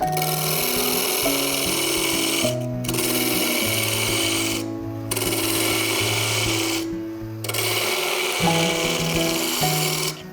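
A wood lathe turns a tenon on a wooden flask, giving a steady loud whir with a cutting rasp that stops briefly twice and then resumes.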